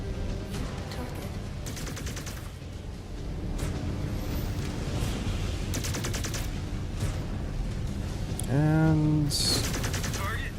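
PPC weapons fire from a mech in the MechWarrior 5: Clans video game: repeated sharp electric blasts come in bursts over rumbling battle noise, with a higher whining tone rising near the end.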